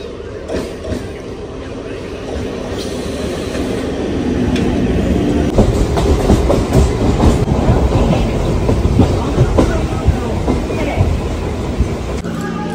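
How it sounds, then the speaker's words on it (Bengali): A passenger train pulls into a station, its low rumble swelling after a few seconds into steady wheel clatter and rail noise that stays loud to the end. "তো ট্রেনটা এখন আসছে।"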